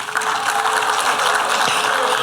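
Steady, rousing applause from the audience at a business leadership summit, a continuous full wash of clapping throughout with no talk over it.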